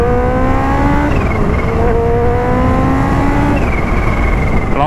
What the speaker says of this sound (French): Là je vais les passer avec le shifter.